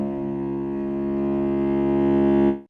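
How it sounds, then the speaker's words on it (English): A sustained synthesized MIDI fortepiano-cello patch, filter cutoff and volume fully open, plays one steady rich harmonic tone alone for over two seconds, swelling slightly before cutting off cleanly. "It's this fortepiano cello."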